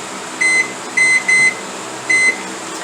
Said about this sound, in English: we're going to come over here to our microwave and put a 8-minute timer on